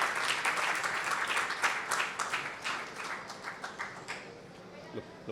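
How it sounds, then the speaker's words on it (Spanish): An audience at a destination-marketing forum in Cancún applauds Darío Flota with brisk, full clapping. The clapping thins into scattered individual claps toward the end, and a few voices can be heard faintly underneath. "Démosle un fuerte aplauso a Darío Flota."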